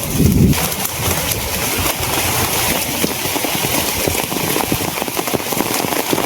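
Sudden rain and storm wind in a Bangladeshi rural setting, a steady broadband wash of rainfall and gusts running loud and continuous, with a brief low thump at the start and birds faintly calling through it.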